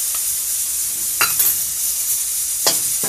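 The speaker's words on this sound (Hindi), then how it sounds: "गैस तेज करके, इसे भी थोड़ा भून लेते हैं।" Onion and spice paste fry in a hot pan for a bottle gourd (ghiya) curry, a steady loud sizzle broken by a couple of sharp stirring scrapes.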